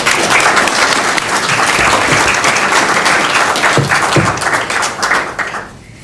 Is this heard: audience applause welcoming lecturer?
yes